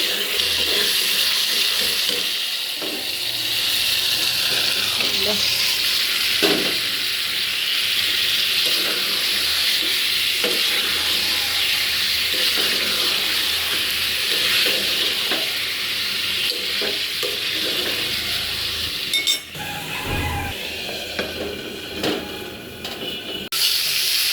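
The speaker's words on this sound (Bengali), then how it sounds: "তরকারিটা মনে হয় কষানো হয়ে গেছে, তেল ছেড়ে দিচ্ছে।" Curry spice paste fries in hot oil in a pan, a steady, close sizzle with intermittent stirring scrapes throughout, ending with a couple of sharper knocks.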